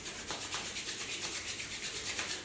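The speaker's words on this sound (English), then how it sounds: "Rub your palms." Palms rubbed briskly together during a yoga session, a close, dry swishing friction in a quick steady back-and-forth rhythm, heard alone without speech.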